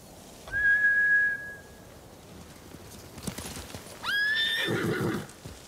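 Two shrill horse whinnies from samurai mounts in the video game Ghost of Tsushima, one early and one near the end, with hoof clatter and rustling movement between them.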